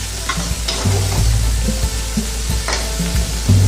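Carrots and black raisins frying in a pan for kabuli pulao, a close sizzle with repeated scraping stirs of a spoon at a quick, uneven rhythm, no voices.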